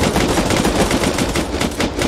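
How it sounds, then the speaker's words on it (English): Rapid automatic gunfire in an online survival video game as players shoot at metal walls, a loud, dense, continuous burst of close shots with no speech over it. "Shoot the two metal walls. Second from the right. Yeah, shoot them."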